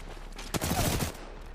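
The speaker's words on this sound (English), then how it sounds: "He's shooting at me." Video game gunfire cuts in as one short burst of rapid shots midway through, over a quiet background.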